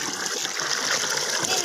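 Water pours and splashes into a cow dung mixture in a brief, continuous, close-up stream with no talking.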